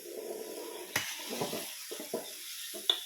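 Rice vermicelli stir-fried in a pan with added water, sizzling softly in a steady wash while a utensil scrapes and taps against the pan in several short bursts, close by with no talk.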